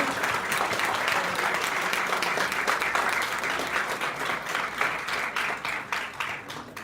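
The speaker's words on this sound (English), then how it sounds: "So big a round of applause for my core team and all the teachers" An audience at an IT symposium award ceremony claps in sustained, dense applause throughout, steady and fairly loud.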